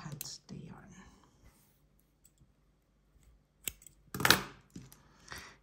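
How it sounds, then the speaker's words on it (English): Scissors snip through crochet yarn at the end of a crocheted lanyard, a couple of short crisp cuts close to the mic, faint, with soft handling rustle around them. "and cut the yarn."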